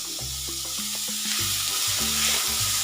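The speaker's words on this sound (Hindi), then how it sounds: "इसमें अब मैं डाल रही हूँ 2 बारीक कटे हुए प्याज, जिन्हें मैंने चॉप कर लिया है" Chopped onions hit melted butter in a pan over a high flame, giving a steady, close sizzle and hiss that runs through the whole moment beneath tuneful background music.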